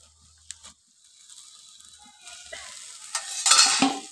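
Banana flower goes into spices frying in oil for a vegetarian mocha curry: quiet at first with a couple of clicks, then a sizzle that builds and peaks near the end, with a spatula scraping and stirring in the pan and no talking.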